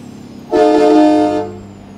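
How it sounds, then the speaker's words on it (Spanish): A truck horn in American Truck Simulator gives one loud, steady blast lasting about a second, then fades out over a quiet engine background. "Ahí también se llama policía por echar pitazo. Digo, bocinazo."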